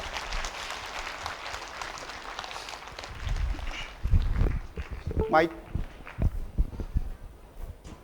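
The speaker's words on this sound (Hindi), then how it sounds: "जरा जोर से ताली बजा दो" An audience at an event claps loudly to greet arriving guests, a busy rattle of hands in the opening seconds that gives way to footsteps, shuffling and someone talking over the room.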